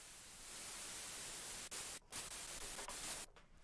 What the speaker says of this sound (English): turning that down also, and then just turning it to white noise so it sounds like this